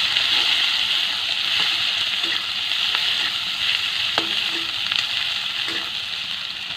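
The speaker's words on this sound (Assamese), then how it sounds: "পিঁয়াজখিনি মই ৰঙচুৱা হোৱালৈকে ভাজিম।" Onions frying in oil in a pan, a steady close sizzle with faint stirring clicks and ticks throughout.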